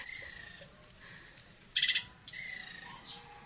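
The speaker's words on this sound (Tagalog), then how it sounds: "kaya marami pong ibon" Several birds chirp and call near a guava tree with ripening fruit, a short bright burst of tweets standing out near the middle over soft background calls and faint insect buzz.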